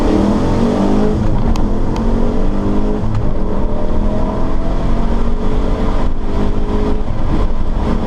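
Modified Dodge Challenger R/T with an aftermarket cam drag racing against stock Challengers, its engine roaring steadily under hard acceleration with rising gear pulls, loud and close throughout.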